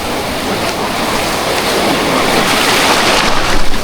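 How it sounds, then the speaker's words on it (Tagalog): Steady roar of surf at Casapsapan Beach, waves rolling and breaking continuously, loud and close, a washing rush of water that swells slightly toward the end. "Ito yung mga alon. Ang laki na, no?"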